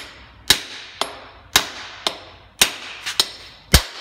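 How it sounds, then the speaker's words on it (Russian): A bearing is hammered into a Renault Duster 4x4 transfer case: sharp metallic blows ring out one by one, about every half second, loud and close with no talk. "Подшипник можно запрессовать, можно забить в принципе."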